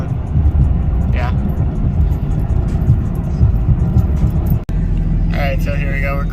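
A four-cylinder car cruising downhill off the throttle, with a steady low road and engine rumble inside the cabin. Brief faint sounds rise above it now and then.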